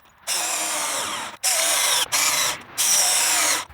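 A power drill drives screws into 4x4 lumber in four loud, close bursts of high whining spin, separated by brief pauses.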